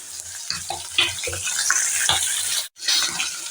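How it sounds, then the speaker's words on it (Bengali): Fish frying in a wok with only a little oil over high heat, giving a loud, steady sizzle and crackle with clattering stirring sounds, briefly cut off near the end before resuming. "খুব অল্প তেলে করব, তাই কড়াইটাকে আমি নাড়িয়ে দিলাম সুন্দর করে। এপাট ওপাট করে দুপাশ করে লাল করে ভেজে নিয়েছি।"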